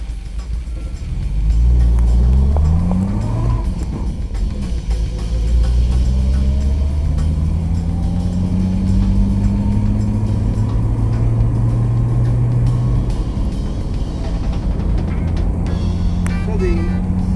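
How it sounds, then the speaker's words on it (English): A 1963 Jaguar XKE E-Type Series 1 3.8 roadster with a non-synchronized Moss gearbox drives along, its engine note rising and falling through gear changes and staying loud and close under road rumble. "Let's go for a test drive in the 63"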